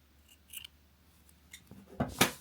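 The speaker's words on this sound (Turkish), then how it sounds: "Dışarıda görünen kısmı varsa onu da bu şekilde" Scissors snip through crochet yarn on a handmade crochet headband, a few quiet isolated cuts with the loudest pair of snips near the end, no talking.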